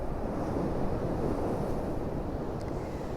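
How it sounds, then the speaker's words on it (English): Sea waves crash continuously onto the shore at high tide in Blackpool, a loud, dense surf roar with blustery wind buffeting the microphone throughout. "as the wave retreats and the next one hits it sort of stirs the water up, and that makes it into a bigger spray."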